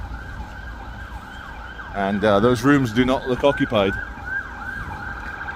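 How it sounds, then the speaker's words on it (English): An ambulance siren wails along a Blackpool street near the Metropole Hotel, its repeating rising-falling tone steady and fairly loud throughout while someone talks over it midway. "Yeah, it's another ambulance."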